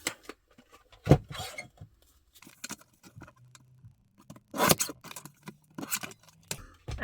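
Scissors trimming an old colour photo: several crisp, close snips come in short bursts separated by pauses, with faint paper rustling between the cuts.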